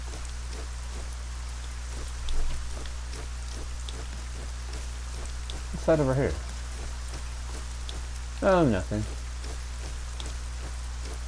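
Heavy rain falls steadily in the fantasy game ArcaniA, a constant hiss beneath a low hum, with two brief tonal sweeps and a man's brief speech in the middle.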